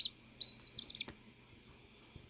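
A small pet cross-beaked bird gives a high, thin chirp, then a longer shrill trilling call up close, followed by quiet with a faint click.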